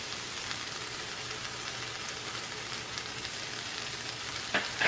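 Bay leaves, salt, pepper and paprika frying together in a pan for a Russian stew make a continuous crackling sizzle, fairly close, ending with a couple of brief clatters from the pan.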